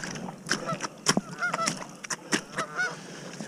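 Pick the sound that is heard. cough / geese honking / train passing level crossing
geese honking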